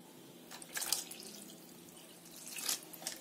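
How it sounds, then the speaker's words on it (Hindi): Lukewarm water poured into freshly churned butter in a cooking pot while making desi ghee, heard as faint, intermittent trickles and splashes in a few soft bursts, with no talking. "और अब इसमें पानी डाल देते हैं"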